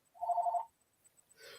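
A telephone rings once with a short electronic tone burst, fairly close and alone, followed by a brief breathy sound and faint background noise.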